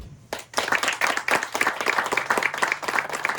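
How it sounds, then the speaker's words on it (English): A round of applause for charitable trust sponsors at an outdoor park ribbon cutting ceremony, many hands clapping fast and steadily, close and loud, with no talk over it. "they deserve another round of applause"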